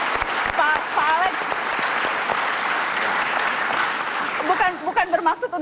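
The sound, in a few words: studio audience applause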